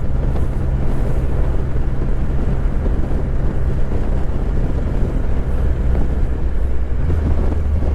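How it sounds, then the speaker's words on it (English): Triumph Rocket 3 GT motorcycle on the road, a steady low engine drone under heavy rushing wind noise, continuous and loud from the rider's position with no talking. "And boy, does this bike feel good to ride."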